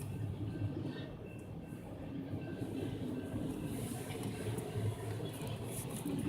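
A slow freight train rolls past on Alcoa Road in the morning, a low, continuous rumble of wheels and cars with faint rattling, distant and fairly quiet throughout.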